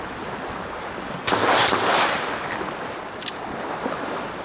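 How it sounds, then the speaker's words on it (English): A single loud shotgun blast from a Browning Citori CrossOver fired on a beach into water, followed by a splashy rushing decay over steady surf and wind noise, with a faint click afterward. "It's fun to get a shotgun out and shoot on the beach."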